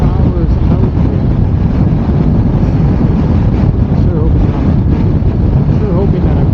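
Wind roaring into a microphone on a moving motorcycle during a long windy ride, a constant loud buffeting rush that fills the whole stretch without any talk.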